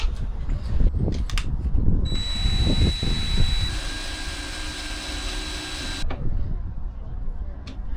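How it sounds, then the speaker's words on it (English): A power drill whines steadily for a few seconds, then stops, with muffled voices and handling noises around it. "Okay, I'll get you the drill."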